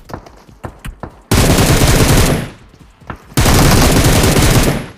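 Automatic rifle fire in PUBG Mobile, a battle royale shooter. A few separate single shots are followed by two long, loud, close sprays of rapid fire, each lasting over a second.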